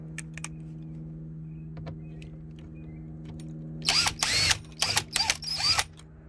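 A power drill backs Torx T20 screws out of a Freightliner Cascadia door panel in several short, loud whirring bursts after a quiet stretch of faint handling noises.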